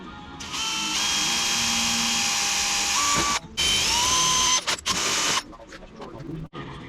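A power drill whines steadily at high speed while drilling a hole in a rear fender for a 2008 Suzuki DR650 motorcycle, its pitch shifting as it bites into material, with brief stops and restarts.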